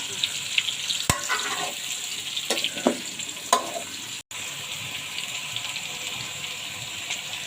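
Roti toasting on a hot pan gives a steady, soft sizzling hiss, with a few sharp taps and light scrapes scattered through it and no voices.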